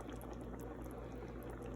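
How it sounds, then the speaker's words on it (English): Semi-frozen boneless chicken pieces with vegetables boil in a pot, giving a steady, faint bubbling simmer with a low hum underneath and no pauses. "it starts boiling, and the chicken pieces are still semi-frozen"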